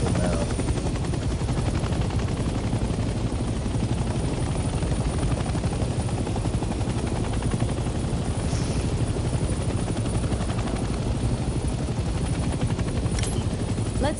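Helicopter engine in Hell Let Loose, a loud, constant rotor thrum and whine filling the whole stretch, with a couple of faint distant cracks behind it.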